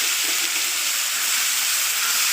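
Cut potatoes hitting hot oil already tempered with mustard seeds and dried red chillies, giving a steady, loud, broadband sizzle and hiss that holds evenly throughout, with no talking.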